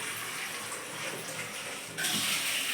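Tap water runs steadily while a container is filling, a continuous hiss and splash that grows noticeably louder and brighter near the end.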